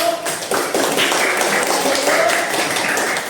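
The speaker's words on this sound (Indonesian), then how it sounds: "beri tepuk tangan bagi kelompok 1" Classroom applause for a student group, a dense burst of many hands clapping at close range, steady and fairly loud, trailing off at the end.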